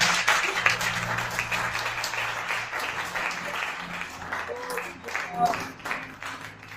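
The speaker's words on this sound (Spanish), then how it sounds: "Dale ese fuerte aplauso al Rey de Reyes." A church congregation claps loudly and continuously, a dense wash of applause with voices mixed in and faint music underneath, swelling slightly near the end.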